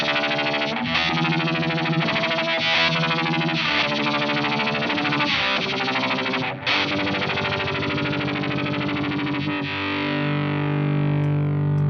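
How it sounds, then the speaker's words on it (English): Heavily distorted electric guitar through a Uni-Vibe pedal, drenched in a pulsing, throbbing modulation that speeds into a rapid stuttering machine-gun rattle, then rings out on a sustained chord. "when you get into those higher speeds, you can get some really cool kind of machine gun sounds"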